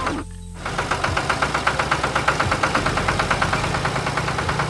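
A bright red tractor engine in an animated farm scene chugs steadily after a brief quiet start, a loud, close, evenly pulsing idle-like knock with no voices.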